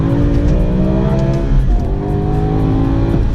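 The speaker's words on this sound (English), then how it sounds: "So let's do one slight pull to redline." A car engine pulled toward redline, roaring loud and close, its pitch climbing steadily through a gear, dipping briefly at a shift around the middle, then rising again with a rich harmonic snarl.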